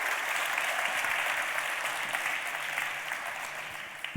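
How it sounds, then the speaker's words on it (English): Warm, sustained round of audience applause welcoming a guest onto a discussion panel, many hands clapping steadily and tapering slightly toward the end. "Give him a big warm round of applause"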